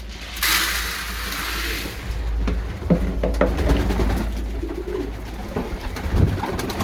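Pigeons in a loft coo softly and repeatedly near and far, after a brief rush of wing flapping, with faint shuffling and a low background hum.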